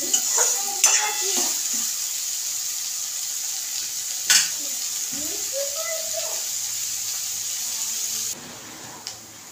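Large onions fry in oil in a pan until browned, giving a steady sizzle throughout with occasional stirring clinks and scrapes close by, while a voice talks quietly over it.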